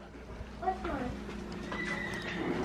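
A large horse neighs and whinnies nearby, a loud, wavering call over steady background noise with voices around it.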